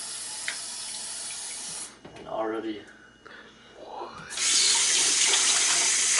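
Water runs from a kitchen sink tap in short bursts, then gushes loudly and steadily, with a person talking nearby before the stream opens up fully.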